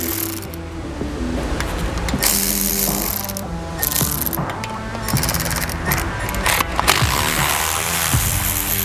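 A ratchet with a 1/2 inch socket loosens the wheel nuts on a Wheel Kaddy mower sulky, making rapid close metallic clicking in bursts over background music.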